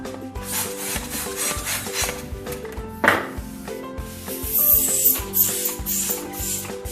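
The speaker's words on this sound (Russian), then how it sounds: "Также надуваем шарик." A latex modelling balloon for balloon twisting is pumped up in steady strokes, giving rhythmic squeaky, rasping hisses over a background of music.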